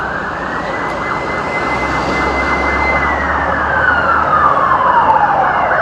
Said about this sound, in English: I hope that fire engine isn't going where I need to be.